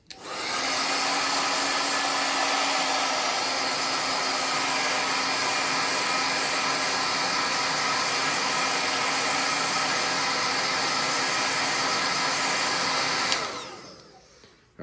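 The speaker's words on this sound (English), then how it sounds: "I am going to heat it with the blow dryer to get the glue just a little bit warm" A handheld blow dryer runs steadily and loudly for about thirteen seconds, warming the adhesive glue on an ostomy barrier, then cuts off abruptly, its hum fading into quiet.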